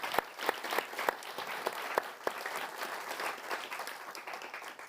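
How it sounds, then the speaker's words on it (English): An audience at a London youth skills summit gives a round of applause, with steady dense clapping and a few sharper individual claps standing out near the start, continuing throughout. "Let's give all that team a round of applause,"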